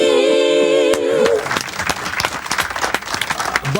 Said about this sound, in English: I don't clap for shit, and I clap for that